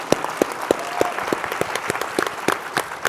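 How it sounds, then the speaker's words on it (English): A conference audience applauding its sponsors at an animal law event, many hands clapping in a brisk, fairly close patter that holds steady for a few seconds. "a round of applause for our sponsors"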